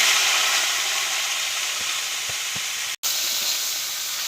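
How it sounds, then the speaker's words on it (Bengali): Red amaranth greens and dried chillies fry in hot oil, giving a steady close sizzling hiss with no talk and a brief break near the end. "লঙ্কাটা ভাজা হয়ে গেছে, শাকটা এবার আমি ছেড়ে দেব।"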